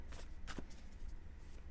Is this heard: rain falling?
no